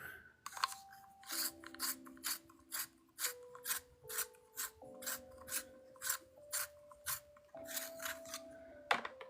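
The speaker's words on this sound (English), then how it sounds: "this sharpener is so much better than the one I had" A hand pencil sharpener sharpens a colored pencil with about a dozen rhythmic rasping twists, each a short dry scrape, close and fairly quiet, with soft tonal squeaks between strokes.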